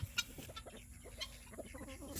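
Guinea fowl on a homestead give harsh, choppy clucking calls in quick bursts, fairly close, with other farm birds faintly around and no talking.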